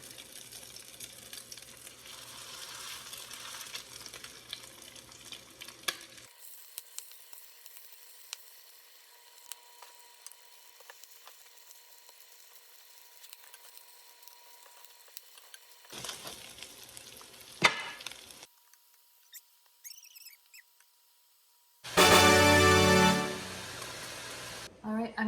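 Salmon patties sizzle as they fry in a pan in a home kitchen. A soft, steady frying hiss comes and goes between quieter gaps, with a louder burst of crackling near the end and a person talking at times.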